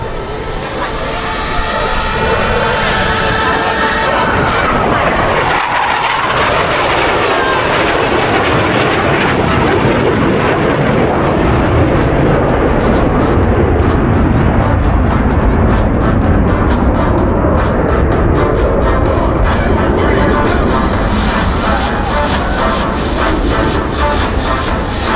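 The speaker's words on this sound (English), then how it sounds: "Commander Stengel and Commander Zimmerman will roll their aircraft to 90 degrees angle of bank as they perform the opposing knife edge pass" Blue Angels jets fly the opposing knife-edge pass at a military air show, a loud, sustained roar of jet engines swelling and sweeping past, with an indistinct voice faintly audible beneath it.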